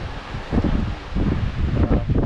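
High wind buffets the microphone on a shore at Immingham Bay, producing a loud, steady roar with gusty swells throughout and no voices.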